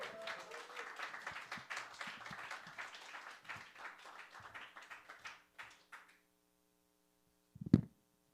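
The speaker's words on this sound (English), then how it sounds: "let's give your next comic a big round of applause" Comedy club audience at an open mic night applauding a comedian, a burst of dense clapping that thins out and fades to silence, followed by a single sharp thump near the end.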